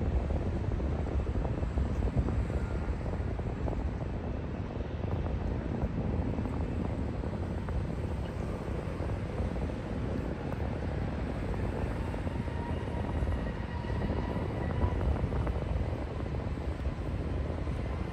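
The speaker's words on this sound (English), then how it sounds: "Frontier Airlines taking off right now." A Frontier Airlines plane takes off at San Diego, a loud, sustained engine roar with deep rumble filling the whole stretch at a steady level, with no voices.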